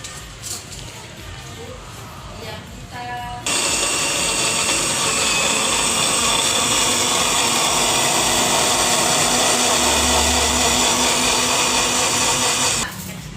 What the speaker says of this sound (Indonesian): Kemudian kita blender karena nanti akan kita ambil sarinya sebagai pewarna